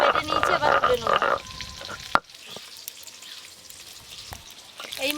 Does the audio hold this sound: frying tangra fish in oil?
yes